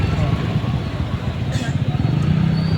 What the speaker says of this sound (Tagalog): Medyo traffic po ngayon.